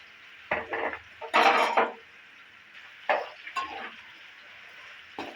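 Chopped beetroot pieces tipped into a pan with curry leaves, giving a few clattering bursts and brief sizzles with metal scraping, loudest around the second second, then quieter scattered clinks.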